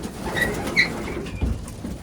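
Pigeons in an open loft being fed, with soft cooing and a few short wing flaps over steady low rustle, close by and moderately loud.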